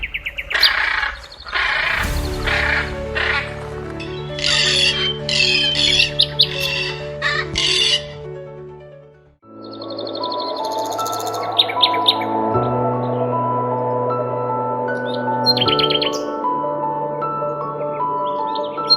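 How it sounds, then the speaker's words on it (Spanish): Wild birds in Brazil chirp and sing in busy, overlapping bursts, with steady sustained tones running underneath; lively and fairly close throughout. "Entre el canto de las aves y el susurro de las hojas al viento"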